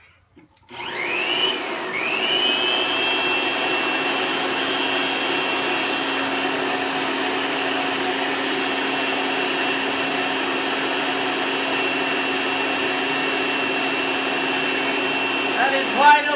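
A blower feeding a natural gas ribbon burner spins up after a brief start and then runs wide open, a loud, steady whirring roar with a high whine that holds unbroken for over fifteen seconds.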